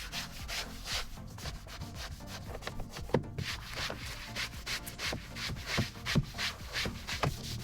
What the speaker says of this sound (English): I'm going to go ahead and spray the same all-purpose cleaner directly onto the surface of the brush, and then I'm going to start scrubbing